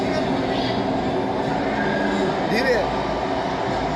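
A train moving in a video game makes a steady, continuous rumble with faint rhythmic rattling, while a person talks over it.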